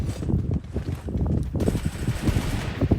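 Rapid automatic gunfire from the mobile battle royale game Free Fire, a dense, loud stream of overlapping shots with no pause, sharpened by an added high-pitched tone partway through.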